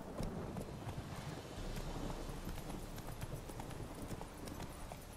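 Horse hooves clip-clop steadily during a ride in The Witcher 3: Wild Hunt, a continuous close rhythm over soft wind noise.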